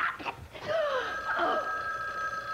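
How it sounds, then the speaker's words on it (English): A telephone rings indoors, its bell-like tone sounding steadily at moderate volume beneath brief overlapping speech. "think the phone's ringing."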